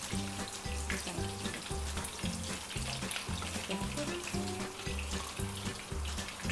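Stuffed bitter gourds frying in a pan give a continuous hiss and sizzle under a steady, repeating pulsing tone in the background, fairly quiet, with no talk.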